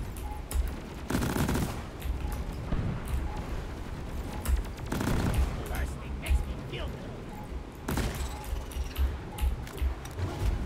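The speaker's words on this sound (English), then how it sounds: "That's my smart rifle." Smart rifle gunfire in Deep Rock Galactic comes as several loud bursts of rapid shots spread across the scene, mixed with game effects and with voices talking over it.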